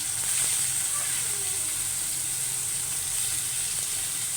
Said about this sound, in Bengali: এখন আমি করলা ভাজি করব।